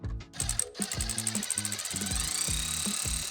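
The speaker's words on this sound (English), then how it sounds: "we are back to using our 12mm socket to get that bolt out" A 12mm socket on a ratchet backs a bolt out of rock sliders being installed on a GX550 / LC250 / 4Runner, giving quick, rhythmic clicking bursts in close, steady succession with no talking.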